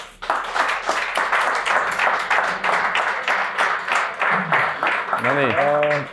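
An audience at a public sports-bar recording gives steady, dense applause welcoming Jukka Toiala, Estonia's national basketball team head coach. The clapping holds throughout, and a short tonal jingle rises near the end.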